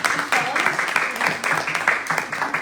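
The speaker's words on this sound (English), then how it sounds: "Let's have a round of applause for our fellows." Audience applause at a humanities institute fellows' presentation event, a steady mass of clapping at moderate loudness with a voice breaking through briefly near the start.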